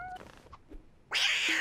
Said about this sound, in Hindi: मगर ये तो बिल्ली है।